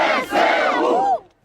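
A crowd roars and cheers in one loud swelling burst that cuts off abruptly after about a second, applause honoring Ukrainians.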